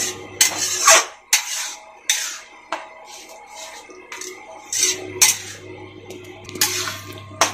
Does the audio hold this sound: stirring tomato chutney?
yes